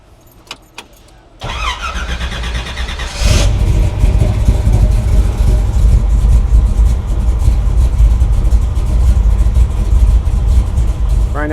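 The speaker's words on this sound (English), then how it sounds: "about to fire up this 59 and get it outside for the first time." A 1959 Ford F100 with a 572 Boss Nine engine and Holley EFI cranks and fires up close by, then settles into a loud, steady, rumbling idle with small rev swells.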